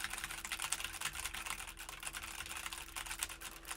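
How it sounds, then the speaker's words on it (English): Steady, fast typing on a mechanical keyboard with quiet switches, dense clicking keystrokes, close and moderately quiet, with no voices. "It's about my normal typing volume right there."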